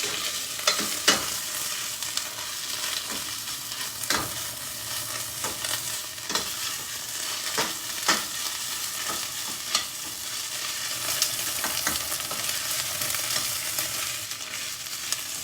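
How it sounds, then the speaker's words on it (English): Poppy seeds pop and crackle in a hot pan of frying vegetables, sharp irregular pops over a constant sizzle, with stirring scrapes and no talking. "You see the poppy seeds are popping a little, so you may want to put the lid handy and be careful while stirring this."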